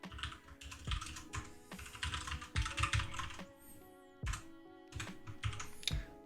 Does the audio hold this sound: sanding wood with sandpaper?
no